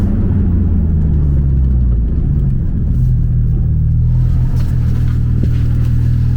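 A Porsche 991.2 Turbo S with all-wheel drive, silencer removed and stage 1 remap, accelerates hard with wheelspin; a loud close engine roar rises in pitch, and tyre noise cuts through toward the end.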